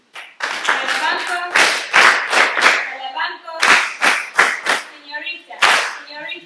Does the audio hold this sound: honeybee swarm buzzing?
no